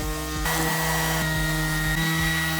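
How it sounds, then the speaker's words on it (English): A belt sander hums steadily with a droning motor tone while sanding wooden dresser drawers, its pitch dipping briefly a few times as the drawers sway and jiggle against it. "The belt sander kept making the drawers sway side to side and jiggle against the sander"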